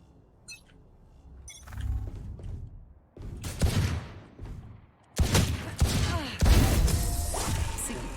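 Gunfire in the tactical shooter game Valorant comes as sharp bursts and single shots with whooshing and crashing effects, growing louder and denser toward the end, with no talking.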